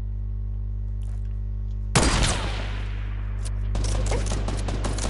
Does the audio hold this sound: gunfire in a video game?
yes